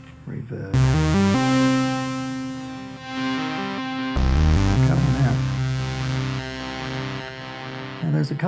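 Synth played through the reverb setting of a Boss RE-202 Space Echo: loud stepped note runs and held chords that bloom into a washy, lingering tail, with a second phrase starting partway through, no voices.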